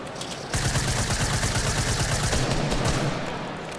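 Sustained automatic gunfire rattles loudly and continuously in the Fortnite video game, a dense rapid volley from a weapon firing at a llama supply drop, with no voices over it.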